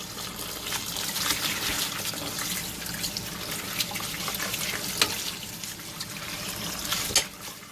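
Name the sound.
tap water rinsing shirataki noodles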